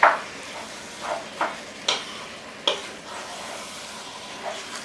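Paleo chili begins cooking in a big pot on a stove, a faint steady sizzle broken by a handful of spaced stirring scrapes and light clinks against the pot, close by with no talk.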